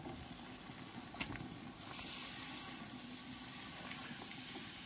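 Water splashes into a pan of pounded ginger, garlic and green chilli masala. It makes a steady hissing, frothy wash that swells partway through and carries on close and even, with no talk.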